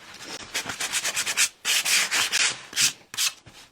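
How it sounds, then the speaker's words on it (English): Sandpaper rubs against wooden paint stir sticks in quick back-and-forth strokes to distress them, a close, raspy scratching with short pauses between bursts. "I just want to rough it up a little bit and distress it"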